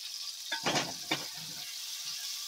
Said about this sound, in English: make my roux. I'll use this into the roux. Roux, R-O-U-X, oil, flour,